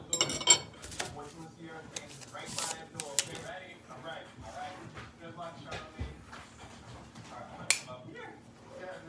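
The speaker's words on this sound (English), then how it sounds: "So I'm mixing it." Instant Tapapito noodles being stirred in a hot bowl make quiet, irregular clinks and scrapes of a utensil, with soft talking close by between the clatters.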